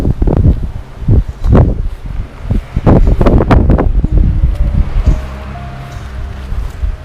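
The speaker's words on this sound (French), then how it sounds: "Du coup, il y a du vent là." Strong outdoor wind gusts buffet the microphone during a night ghost-hunting outing, arriving as loud, uneven rumbling blasts that fade to a calmer low whoosh near the end.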